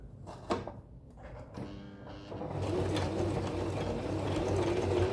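A sewing machine fitted with an automatic buttonhole foot stitches a zigzag buttonhole, starting after a few light clicks and handling knocks and then humming in a steady, fast mechanical whir up close.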